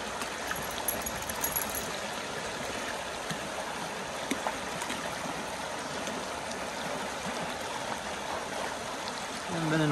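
Snow-fed mountain stream along the Million Dollar Highway near Ouray and Telluride, a steady broadband rush of running water filling the whole clip at moderate level, with faint voices in the background.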